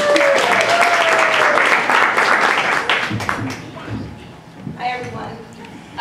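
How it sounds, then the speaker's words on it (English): Guests applauding at a wedding reception as a speaker comes up for a toast, loud close clapping for about three seconds that then fades to scattered claps and murmuring voices. "Big round of applause for April."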